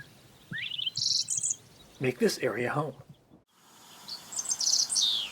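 Bright chirping bird song from an open grassland along the Katy Trail between Sedalia and Clinton, where dickcissels and bobwhite quail live, two short phrases at the start and end, with a person speaking briefly in between.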